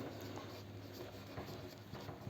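Chalk or marker writes a sentence on a classroom board in an English grammar lesson, a faint, close scratching of quick strokes with small taps between letters.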